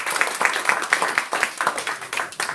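An audience at a senior center claps to welcome the sheriff, a steady round of close, moderately loud hand claps from a small crowd.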